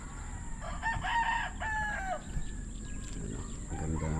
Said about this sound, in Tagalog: Talaok ng manok.